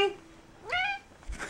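A house cat meows twice indoors in a kitchen, a short call followed by a longer, rising meow, close and clear, with faint background sounds.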